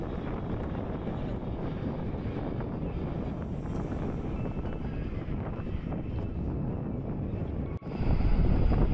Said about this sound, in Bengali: রাতের বাতাস এবং সমুদ্রের ঢেউয়ের শব্দ অসাধারণ একটা ফিল ছিল